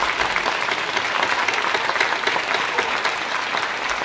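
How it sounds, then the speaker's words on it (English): An audience at a National Honor Society induction ceremony gives loud, dense applause that keeps up without a break throughout. "A round of applause for everybody, please."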